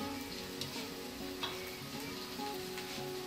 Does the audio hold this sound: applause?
no